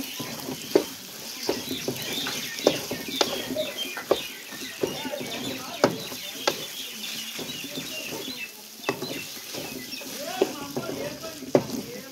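Masala spices frying in oil in a pan, a steady crackling sizzle with scattered sharp pops and stirring clicks, close and moderately loud with no talk.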